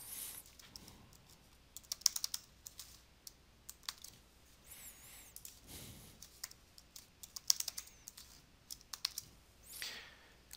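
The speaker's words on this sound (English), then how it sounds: "So I'm going to put in a strong password." Password being typed on a computer keyboard, a quick run of light plastic key clicks in irregular bursts, close by and fairly quiet, with no talking.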